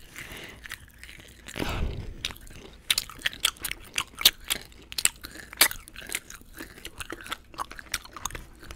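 Crunchy gummy sushi candy is bitten and chewed close to the mic, with a loud first bite followed by a string of irregular sharp crunches and smacks.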